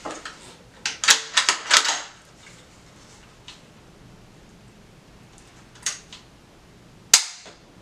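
Sharp mechanical clicks from the trigger of a Winchester XPR rifle chambered in .350 Legend, a quick cluster of close clicks followed by a few isolated ones with quiet gaps between.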